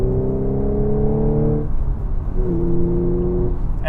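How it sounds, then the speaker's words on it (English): A supercharged V6 engine in a 2016 Audi S5 coupe with a manual gearbox hums steadily with a deep harmonic drone, its pitch holding, briefly dipping, then settling slightly lower; continuous and fairly loud, no talking. "And a supercharged V6 engine. It just sounds great"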